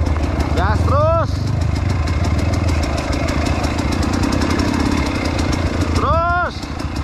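A motorcycle engine rumbles at a steady idle, with sharp rising revs near the start and again near the end. Voices talk over the engine throughout.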